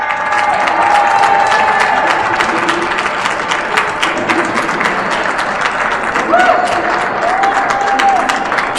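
A crowd at the New York Stock Exchange claps and cheers in a steady, loud roar, with excited voices and occasional whoops rising above the applause.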